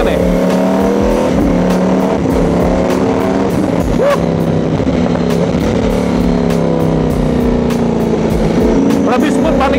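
A loud, close Ducati Panigale V4S or Kawasaki H2 superbike revs hard with quick-shifted gear changes, the engine note rising and stepping through gears without a break for about ten seconds.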